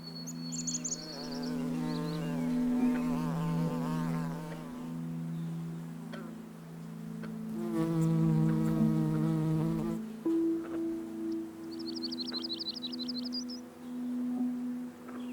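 Insects buzzing as they feed among flower stamens, a steady close drone with humming wingbeats that rise and fall, joined by a few brief high chirps, with no talk.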